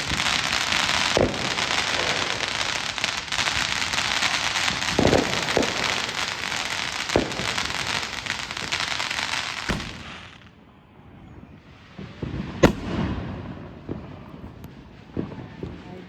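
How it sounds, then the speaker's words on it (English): A long, dense barrage of crackling fireworks with booming bursts, then a sudden drop to quieter scattered pops and bangs. "And then the fireworks started."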